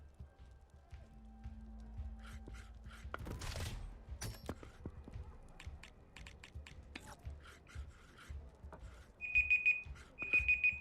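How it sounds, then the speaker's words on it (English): A household alarm set as a laundry reminder goes off near the end as two quick bursts of rapid, high electronic beeps, after a stretch of quiet room noise and soft rustling. "that's my alarm going off telling me the laundry needs to be moved over."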